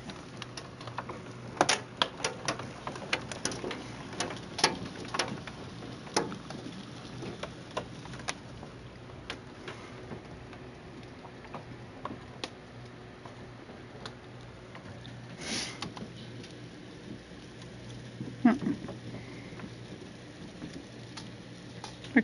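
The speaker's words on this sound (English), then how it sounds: "Freaking chunks of ice bouncing all over the yard out there." Hailstones, chunks of ice, bounce across a yard outdoors, heard as a faint, irregular scatter of ticks and taps at a distance over a steady low background for about twenty seconds.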